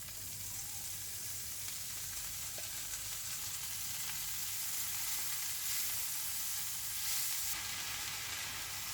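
Roughly chopped kangkong (morning glory) leaves and stalks stir-frying in a wok, a steady faint sizzle with a soft hiss that persists evenly, no voices.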